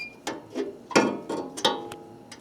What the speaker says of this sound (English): you can ratchet right around, and it's pretty quick.